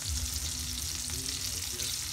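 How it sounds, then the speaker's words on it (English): Food sizzles and bubbles steadily in a 13.25-quart Le Creuset round French oven, a continuous soft hissing simmer heard up close with no talk. "So now I'm gonna just let this simmer"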